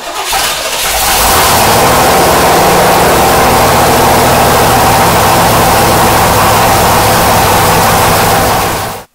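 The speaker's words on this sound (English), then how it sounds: "While the engine was running" The engine of a 1973 Corvette Stingray coupe fires up and runs loud and close at a steady, rough-edged idle for several seconds before cutting off abruptly.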